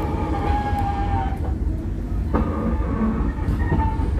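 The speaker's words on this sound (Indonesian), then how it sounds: "Kereta api Cikurai ini akan kembali berhenti di stasiun Kiara Condong ya" Cikurai passenger train slowing to stop at Kiara Condong station, heard as a steady low rumble with faint wheel and brake squeals drifting above it, close and continuous throughout.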